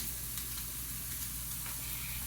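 Pancetta frying in a pan crackles and sizzles with a steady, close, fairly quiet hiss and scattered small pops, with no talking.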